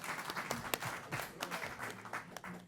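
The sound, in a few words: audience clapping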